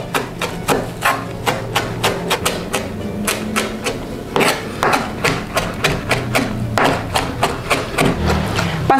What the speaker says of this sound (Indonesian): Pastikan kita mencincang bawang putih dan parsley-nya sampai halus banget